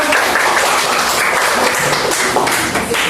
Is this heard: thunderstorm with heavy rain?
no